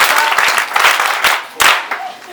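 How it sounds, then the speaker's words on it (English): Nursing students at a school of nursing and midwifery give a burst of group applause, loud, close, dense clapping that swells and fades, with a voice speaking over it. "Clap for yourselves."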